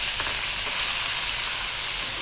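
Chopped onion sautéing in hot oil with cumin seeds in a wide pan, a steady, close, even sizzle with no pauses.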